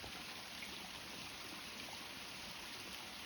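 A river runs in the countryside where lambs graze, heard as a steady, faint broadband rush and trickle of flowing water with no other distinct sounds.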